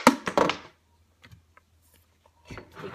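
A blue toy cannonball from a LEGO Duplo pirate ship set drops into a plastic box, giving a couple of quick hollow thunks and rattles at the start, then silence before faint handling noise.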